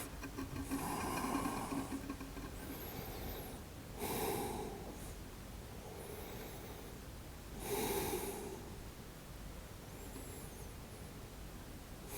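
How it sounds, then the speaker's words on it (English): Slow exhaled breaths during an early morning yoga class, several soft, breathy airflows close to the microphone, spaced a few seconds apart against a quiet background hiss. "Take an inhale. And exhale, fold forward."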